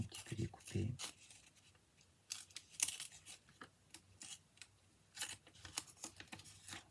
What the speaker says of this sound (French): je vais un petit peu découper